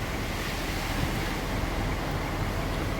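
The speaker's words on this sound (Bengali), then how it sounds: "যে হারে বৃষ্টি হচ্ছে সেরমভাবেই মানে সেই হারেই হাওয়াটা দিয়ে যাচ্ছে" Cyclone Remal drives strong wind and heavy rain across a village of tin-roofed houses in West Bengal. The roar is loud, dense and unbroken for the whole stretch, with no voices.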